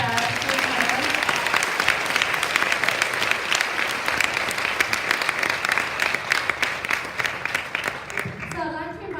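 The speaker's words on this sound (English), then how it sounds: "Can we get a huge round of applause for our" A seated crowd at an International Women's Day business panel event claps steadily and loudly, a sustained roar of applause that holds for about nine seconds before a voice emerges at the very end.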